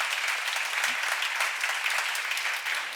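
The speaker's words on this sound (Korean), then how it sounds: "박수로 하세요." Congregation at a church seminar breaking into steady, dense applause, a sustained wash of clapping that fills the space evenly from start to finish with no voices over it.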